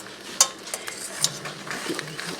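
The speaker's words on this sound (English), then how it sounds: "we're just going to stir it until that cheese melts" A spoon stirs Velveeta cheese, softened butter and milk in a pan, making soft scraping and squelching strokes with a few sharper clinks against the metal, close and moderately quiet.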